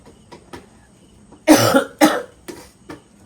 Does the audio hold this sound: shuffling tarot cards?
no